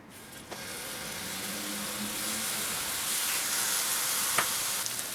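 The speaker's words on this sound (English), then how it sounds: "So now I will just put our turkey burgers in here, and we'll fry these for about 5 to 7 minutes." Asian-style turkey burgers frying in a skillet, a loud continuous sizzle and crackle close up with occasional sharper pops, no voices.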